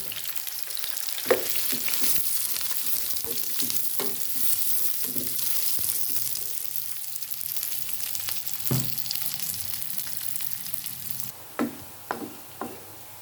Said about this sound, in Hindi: जब ये गरम हो जाएगा तो इसमें प्याज ऐड कर देने हैं।